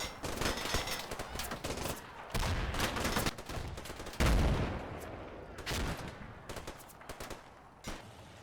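Indirect artillery fire called by a forward observer onto a croft in the WWII tactics game Combat Mission, heard as continuous rumbling battle noise with dense overlapping blasts and shots, several heavier booms standing out, loud throughout.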